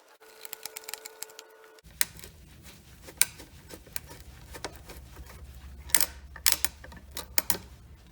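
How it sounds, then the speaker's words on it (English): Screws are driven back into the plastic side mirror shell of a 1999 Honda CR-V, giving sparse, close clicks and ticking with a few sharper snaps over a low background hum, with no talking. "Put the screws back in."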